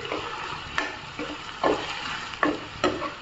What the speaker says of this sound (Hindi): अब इसे गोल्डन ब्राउन होने तक अच्छे से हम भून लेंगे प्याज को।